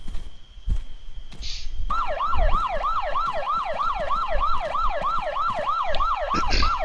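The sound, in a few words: police car siren in a video game (Olympus)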